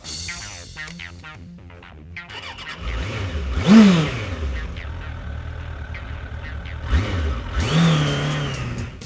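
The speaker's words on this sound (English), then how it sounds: "it's not the throatiest sounding engine note you've ever heard, but the engine itself is a direct relative of the GSX-R motor" An oil-cooled motorcycle engine, a close relative of the Suzuki GSX-R motor, is blipped near the microphone, rising sharply in a couple of revving bursts and then dropping back to idle.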